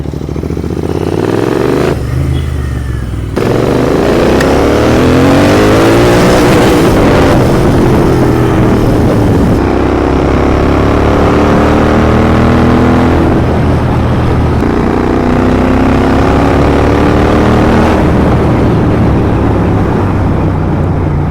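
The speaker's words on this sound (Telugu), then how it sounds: "బండి వస్తుంది" A vehicle, likely a motorbike, approaches and drives past on the road toward Ananthagiri, its loud engine note rising and shifting through repeated revs close by.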